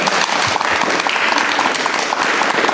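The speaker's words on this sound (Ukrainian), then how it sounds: "Оплески!" A studio audience at a Valentine's Day television show breaks into loud, sustained applause, a close, dense wash of clapping with no voices over it.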